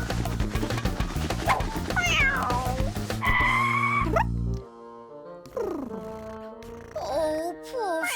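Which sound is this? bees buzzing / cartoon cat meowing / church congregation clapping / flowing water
cartoon cat meowing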